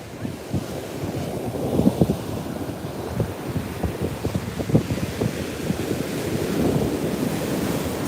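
Ocean waves wash onto the beach at Beach Haven under steady, loud wind buffeting the microphone, with continuous surf rumble and no talking.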